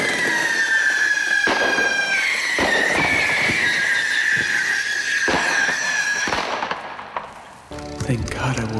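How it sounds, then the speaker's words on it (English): Bottle rockets fire from a pair of rocket skates with a loud, sustained whistling hiss. Sharp cracks and bangs break into the hiss before it cuts off, and a few more pops and rumbles follow near the end. "This one's gonna be a little more powerful than the last one, so. Why, these are different bottle rockets?"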